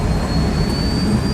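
A jet airplane engine in the video game Ace Combat 7 gives a steady, loud, continuous roar with a broad rushing quality, unbroken throughout.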